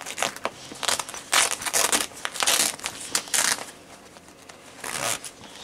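A Polish FOO-1 CBRN protective suit made of stiff rubberised material rustles and crinkles loudly as its zip is undone, with several bursts of crackling handling noise and brief pauses between them.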